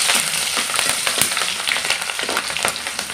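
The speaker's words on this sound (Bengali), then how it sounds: "এখন দিয়ে দেব কাঁচা লঙ্কা কুচিটা একটু হালকা করে ভেজে নেব" Chopped green chilies fry in hot oil in a pan where dried red chilies have already been fried, giving a steady, close, loud sizzle with scattered sharp crackles throughout and no talking.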